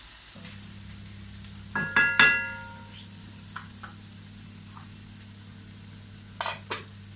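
Chicken sauté with spices fries in a pan with a low steady sizzle, broken by a few sharp utensil clinks and stirring knocks near the start and end.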